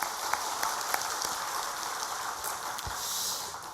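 Congregation in a Korean church applauds the choir's praise singing, a steady, fairly soft wash of many hands clapping at a distance, with a few sharper claps standing out.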